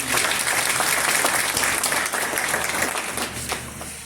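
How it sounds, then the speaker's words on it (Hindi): A hall audience at a constitution awareness gathering applauds loudly and steadily to welcome a guest, the clapping slowly easing toward the end. "तो तालियां जरूर बजाइए।"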